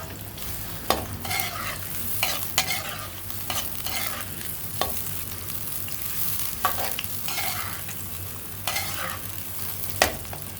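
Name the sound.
chopped onions frying in hot oil in a kadai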